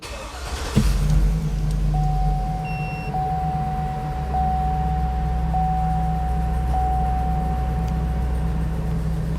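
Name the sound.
Hummer H2 SUT 6.0 V8 gasoline engine starting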